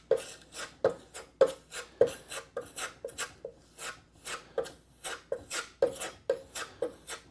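Bondo filler is spread with rhythmic scraping strokes across an arcade control panel box. The close, dry rasps repeat in a steady pattern, about two per second.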